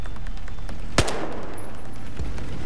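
Gunfire in the video game Battlefield 4, with a steady rattle of continuous automatic fire and one loud sharp shot standing out near the start.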